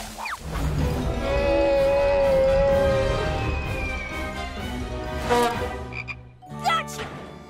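Loud cartoon frog croaking, a long resonant warbling croak followed by a few shorter chirpy croaks, up close with no talking.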